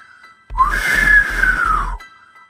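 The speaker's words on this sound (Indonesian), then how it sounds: "Didahului satu suitan melengking memecah langit di malam gelap itu" A single shrill, piercing whistle holds for about a second and a half, rising and then falling slightly in pitch, over a low pulsing beat.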